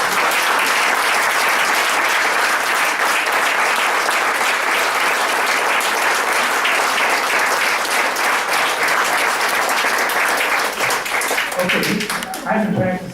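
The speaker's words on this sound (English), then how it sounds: "would you please give them an applause for being here tonight?" Loud, sustained applause from a county event audience honoring judges, a dense roar of many hands clapping continuously before thinning out near the end.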